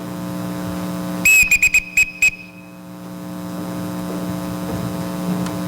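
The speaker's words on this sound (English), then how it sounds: "Everyone in this house answers to a whistle." A shrill whistle blasts five or six quick short bursts during a stage performance of The Sound of Music, loud over a steady hum of the theatre sound system, then stops and leaves the hum alone.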